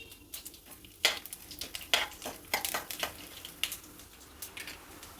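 Mustard seeds dropped into hot oil in a kadai crackle and pop in sharp, irregular bursts over a low sizzle, with occasional stirring clinks.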